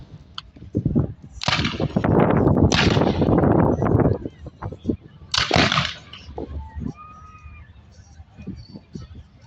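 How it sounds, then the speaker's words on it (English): Staggered musket volleys from Civil War reenactors in an outdoor festival arena crack out as loud, overlapping blasts in two clusters, then fade to quieter background noise. "all of a sudden you can see that we've got this staggered rate of fire going on"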